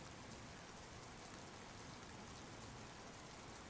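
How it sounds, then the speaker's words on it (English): Heavy rain in a flight simulator game pours down steadily and densely, a constant loud wash of drops with no voices. "Raining like crazy here."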